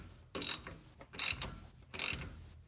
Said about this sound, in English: Next we have to loosen the nut on the pulley for the clutch.